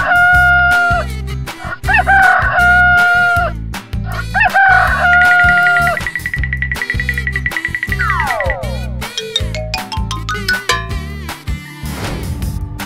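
Loud, synthetic-sounding chicken clucks and a rooster's cock-a-doodle-doo over a thumping rhythmic music beat, the calls repeating in bursts, from a children's animal cartoon.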